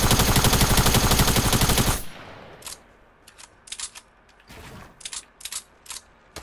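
Tactical SMG fire in Fortnite Battle Royale on PS4: a loud, unbroken rapid-fire burst for about two seconds, then scattered, quieter single shots and short bursts.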